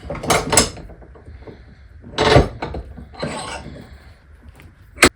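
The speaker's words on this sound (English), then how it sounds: "So let's clamp it up in the vise." Metal clamping clatter as a card scraper burnisher is locked into a bench vise: a couple of sharp clunks and scrapes, one louder thump midway and a crisp knock at the end, close and fairly loud.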